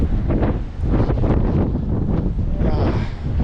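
Strong wind buffets the microphone in heavy, rumbling gusts on a fishing boat hauling a net, with faint water and boat sounds underneath.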